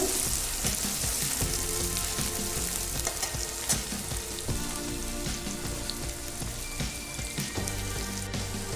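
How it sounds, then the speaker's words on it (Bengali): Onions hit hot oil in a home kitchen pan while pasta is being made, giving a loud, steady crackling sizzle that runs continuously throughout, with occasional stirring scrapes and no talking. "তেলটা গরম হয়ে গেছে, এবার আমি পেঁয়াজগুলো ঢেলে দিচ্ছি। পেঁয়াজগুলো ভেজে নেব।"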